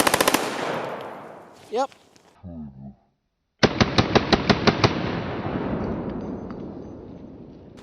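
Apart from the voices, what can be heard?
PSR41 AR-style rifle firing rounds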